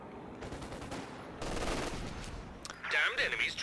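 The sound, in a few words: Land Mattress rocket barrage explosions in a strategy video game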